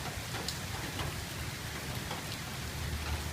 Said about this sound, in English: And here we are, still raining. It's been raining over 24 hours now.